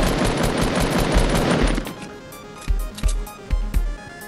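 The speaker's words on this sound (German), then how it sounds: "Da hinten wird geschossen." Gunfire in the Fortnite video game: a dense, sustained burst of rapid automatic fire gives way to a series of separate, spaced shots, loud and sharp, with no speech over them.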